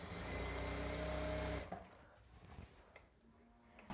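Electric sewing machine running steadily as it stitches the folded hem of a lungi, a continuous whirring hum for about a second and a half that then cuts off, leaving faint handling noises.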